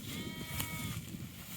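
Sheep in a grazing cell enclosed by electric netting bleat softly outdoors, a short, faint, wavering call at moderate distance.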